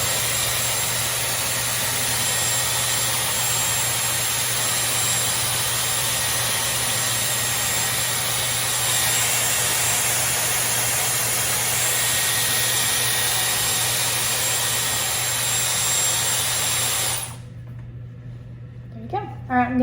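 A Dyson Airwrap blows a steady, loud, even roar while drying hair, running without a break and then cutting off near the end, followed by a few faint handling sounds.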